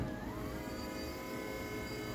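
Fuel and other pumps in a 350z with a swapped LT4 V8 whir steadily once the ignition is switched on, a faint continuous electric hum and whine with no engine running and no talking.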